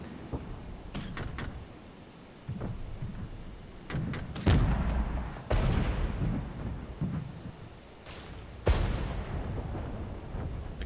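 T-64 tank cannon fire in the Cold War RTS game Regiments: several loud, sharp booming blasts with rumbling decay, spaced irregularly over a steady low battlefield din, no talking.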